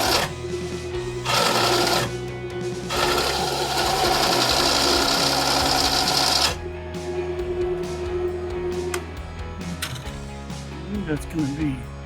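A drill or grinder enlarges holes in newly made steel motor mounts for a Dodge Dakota V10 engine swap, running in loud sustained bursts with pauses between, alongside a voice in the shop.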